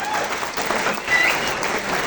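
An audience at a Hall of Fame induction for the 2007 Springbok rugby team gives a quick burst of applause, a short, dense patter of clapping with some voices mixed in.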